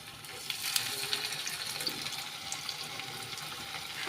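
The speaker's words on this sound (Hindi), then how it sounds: "तो मैं ये जो टिक्की बनाई है ना केले की, उनको अच्छे से डालेंगे और उसमें फ्राई करेंगे।" Raw banana tikki frying in hot oil in a home kitchen, a steady soft sizzle and crackle throughout with no talking.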